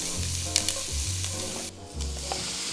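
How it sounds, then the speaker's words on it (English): Ground meat browning in a pan sizzles steadily with a soft crackle, close and continuous, with faint stirring scrapes and a low hum underneath. "We are actually trying to brown the meat."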